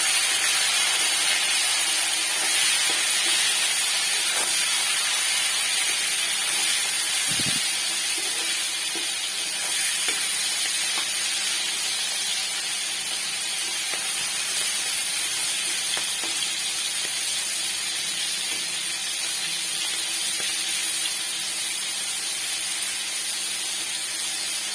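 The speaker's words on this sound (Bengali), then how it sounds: "এখন তেলের মধ্যে দিয়ে দেব লবণ আর হলুদ দিয়ে মাখিয়ে রাখা চিংড়ি মাছ। চিংড়ি মাছটা আমি ভেজে নেব।" Salted, turmeric-coated shrimp fry in hot oil, giving a steady, loud sizzling hiss that holds for the whole stretch with little change apart from a few brief pops.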